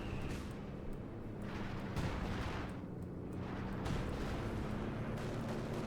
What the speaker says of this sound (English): got artillery called in here by Sillycat